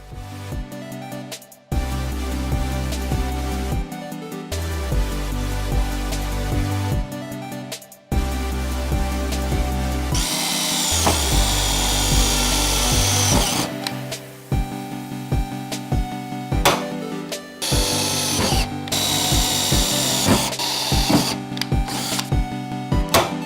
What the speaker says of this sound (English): you're going to want to rivet back and forth from the center out